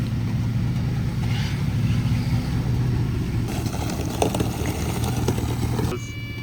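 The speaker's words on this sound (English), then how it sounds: "Got the work truck warming up over here." A work truck's engine idles steadily with a low, continuous rumble, close and fairly loud, alongside some clattering and faint background noise throughout.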